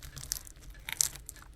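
A few crisp crunches and crackles in quick bursts, like biting or breaking crispy fried egg rolls, close up with a low hum beneath.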